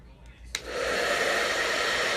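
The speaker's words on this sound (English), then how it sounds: "Take my blow dryer on warm" A blow dryer switched on at a warm, low setting, used in an eye makeup demonstration, starts with a short click and then runs as a steady close airy whoosh.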